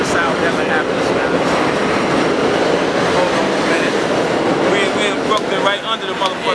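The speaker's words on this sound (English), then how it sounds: "The train don't care about what's going on." An elevated L subway train rumbles past overhead in Brooklyn, a loud, continuous roar of wheels and rail clatter that fills the whole stretch, with faint squeals near the end and no talk.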